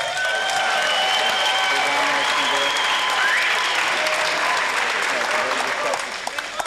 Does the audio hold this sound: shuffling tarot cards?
no